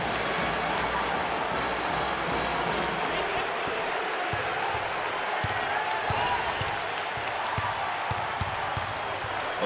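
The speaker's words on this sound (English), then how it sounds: "The crowd is thunderous." A loud basketball arena crowd roars steadily through an NCAA college game between Penn and Houston, with broadband cheering and applause mixed with scattered bounces and court thumps.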